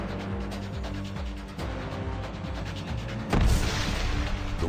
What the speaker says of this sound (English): The wall is crumbled.